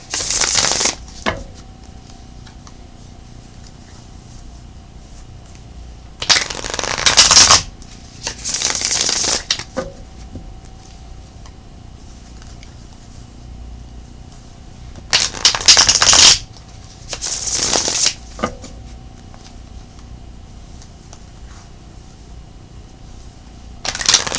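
Playing cards are riffle-shuffled in two pairs of quick, crisp bursts, separated by quiet pauses.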